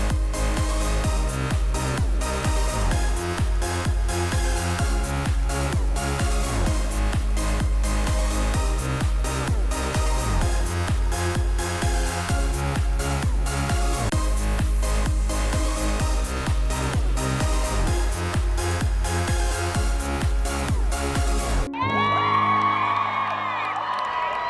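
St. Francis cheer team performing to loud, driving music with a steady beat, crowd cheers and whoops mixed into the music, ending in a brief shouted burst as the music cuts off.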